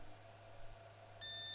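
A phone app beams a data tone into a TC-Helicon Perform-V microphone, a steady bright multi-pitched electronic tone cutting in abruptly after a faint hum and holding to the end.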